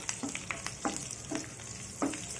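Urad dal and mustard seeds fry in hot oil for a tempering, giving a quiet, steady sizzle with a few sharp pops and crackles at irregular intervals.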